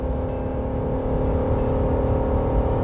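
A RAM 1500 truck's 3.6L Pentastar V6 droning steadily at high RPM, a loud sustained engine hum that holds nearly constant for a few seconds, no talking.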